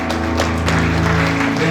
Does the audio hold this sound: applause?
yes